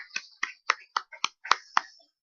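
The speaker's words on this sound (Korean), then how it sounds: "우리 하나님께 영광의 박수를 돌려드립니다." In a Korean church service, a handful of claps ring out as the congregation applauds, sounding as about eight distinct, crisp hand claps spaced roughly a quarter second apart in a quiet room.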